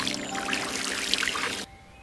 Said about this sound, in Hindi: भोला अपने बड्ढे से खेत में फसल को पानी दे रहा था।